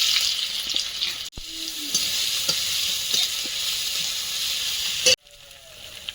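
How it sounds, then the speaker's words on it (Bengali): Whole cumin, dried chili, ginger and garlic sizzle steadily in hot oil, a loud, close, continuous frying hiss broken by two brief pauses as the pan is stirred, with light scraping underneath. "তেলে একটু গোটা জিরে দেব শুকনো লঙ্কা আদা রসুন কোড়া"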